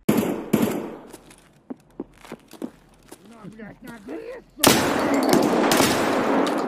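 Benelli M3 shotgun firing in the video game Escape From Tarkov, several sharp shots early on, then quieter footsteps and handling noises with a voice talking, ending in a loud sustained burst of noise.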